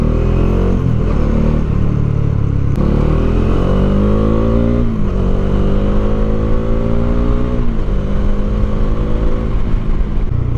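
A 2024 Bajaj Dominar UG2 motorcycle engine runs loud and close, its pitch rising and falling through several rev swells, dropping back between pulls over a steady mechanical drone.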